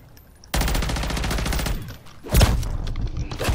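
A gun fires in MW3 Zombies: a sustained rapid burst of automatic shots starts abruptly and runs for over a second, then a heavy thumping impact and another loud blast follow, close and forceful.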